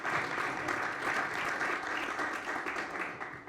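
A panel audience in Berlin claps for an introduced speaker, a sustained, fairly distant patter of applause that holds evenly and begins to thin toward the end, with no voices over it.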